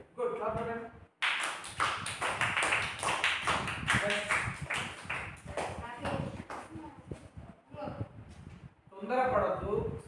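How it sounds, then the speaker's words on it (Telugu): Fifth-grade pupils in a primary-school Telugu class clap together in a quick, rhythmic burst of sharp, evenly spaced claps lasting several seconds. A voice speaks before and after the clapping. "గుడ్ క్లాప్ కొట్టండి"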